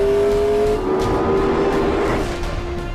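A McLaren P1 GTR race car on a wet track accelerates hard, a loud, continuous engine roar with a steady tone that shifts slightly as it pulls, with no speech over it.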